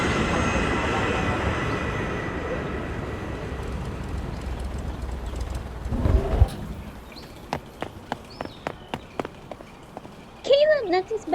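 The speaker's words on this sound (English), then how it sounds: "There's Caleb's plane." An airplane roars past in the sky, a broad loud rumble that fades over several seconds, followed by scattered clicks and a short burst of a voice near the end.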